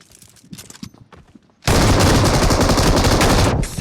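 Machine gun fight in the BGMI video game on the Erangel map: soft scattered game sounds, then a sudden loud, dense burst of sustained automatic fire lasting about two seconds before cutting off.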